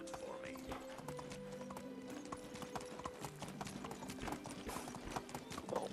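Horse hooves clip-clop in a steady, quick rhythm while riding in the medieval life-sim game Medieval Dynasty, fairly close and continuous, over a layer of game music and ambient sound, with a voice talking over part of it.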